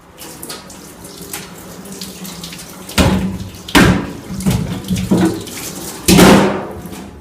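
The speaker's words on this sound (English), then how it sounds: "run it under some water" Tap water runs over a block-ice tray in a sink, a soft steady trickle broken by several loud rushing splashes as the tray is pushed under the stream, with no talk.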